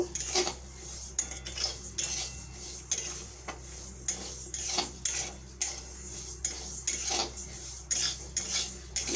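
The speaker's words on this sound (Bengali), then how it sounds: "প্রথমে আমি ডালটাকে ভেজে নেব" Dal frying in a pan, metal spoon clattering and scraping rhythmically against the pan over a faint background sizzle and hum, close and busy.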